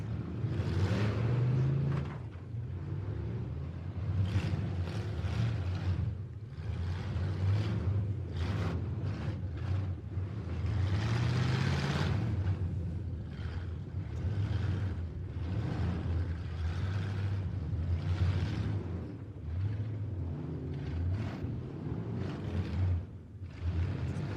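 Street stock derby car engines rumble and growl continuously at a steady, moderately distant level, with repeated revving swells and no talk.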